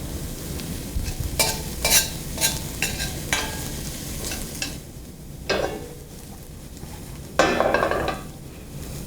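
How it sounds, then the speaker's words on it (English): Diced onions sauté in a pan with a steady close sizzle, while a utensil scrapes and stirs against the pan in several separate bursts, one louder toward the end. "you want to just saute these till the onions are translucent"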